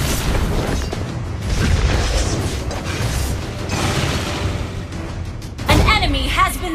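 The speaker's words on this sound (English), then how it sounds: "You destroyed a turret!" Game turret destroyed with a booming explosion amid ongoing battle noise, a heavy burst near the end standing out over the clatter, with game voice announcements mixed in.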